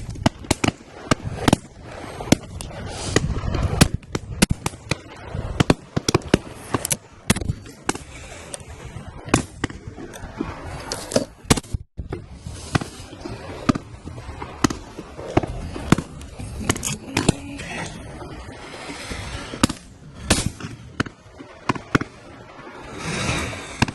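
Shotguns fire at a driven game shoot at Warter Priory, a busy, irregular stream of sharp cracks near and far, some overlapping, over outdoor ambience with occasional brief voices.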